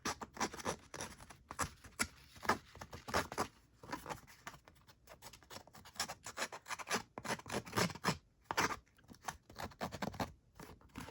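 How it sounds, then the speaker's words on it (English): Rapid rasping and rubbing strokes as the edges of thick handmade postcards are roughed up, a dense, uneven run of close scratchy bursts with short pauses, no talking. "Let's get these edges roughed up."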